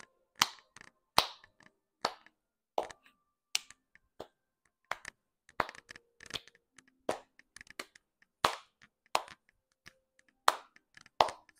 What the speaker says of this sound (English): Sit for 15 seconds while you jog and clap your hands.